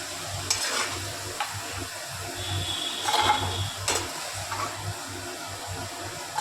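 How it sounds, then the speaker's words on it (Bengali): Potatoes frying in oil with salt and turmeric, stirred in the pan, giving a steady low sizzle broken by scraping and clinking strokes of a spatula, fairly close, with no talking. "আর সামান্য নুন দিয়ে আলুটাকে ভেজে নিচ্ছি"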